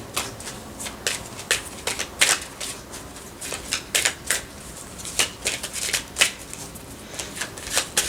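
A deck of tarot cards is shuffled continuously for several seconds, a steady run of close, crisp riffling flicks and slaps at an uneven rhythm, with no talking.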